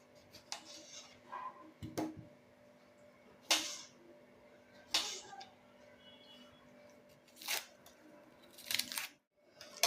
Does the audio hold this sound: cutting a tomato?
yes